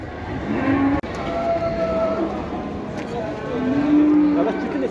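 Cattle at a livestock market in Xaçmaz, with female calves among them, moo several times in close, loud calls, including a drawn-out low moo near the end over steady crowd and market noise.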